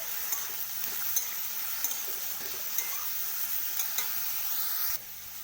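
Eggplant pieces fry in hot oil in a pan, giving a constant close sizzle broken by light clinks of a spoon stirring, with no talking.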